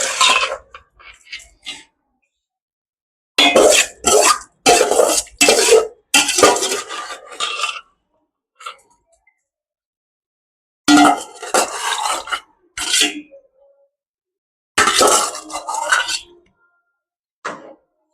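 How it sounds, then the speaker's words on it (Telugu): Rice is stirred in a pot for egg biryani, with bursts of metal spoon scraping and clinking against the pot separated by silent pauses, and a brief cough. "ఇప్పుడు బాగా ఒక 2 నిమిషాలు ఇలా కలుపుకోవాలి."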